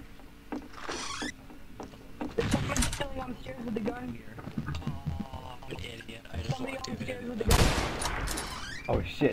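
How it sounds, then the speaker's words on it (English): Gunfire in an Omerta Networks roleplay video game, with a few sharp shots scattered amid players talking, and a loud burst near the end. "Oh shit, somebody got shot."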